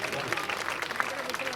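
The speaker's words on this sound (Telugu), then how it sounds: "ఆల్ ఓల్డ్ స్టూడెంట్స్ గట్టిగా చప్పట్లు కొట్టాలి మేడంకు." Former students at a girls' school gathering clap for their old principal, a dense wash of applause with crowd voices mixed in.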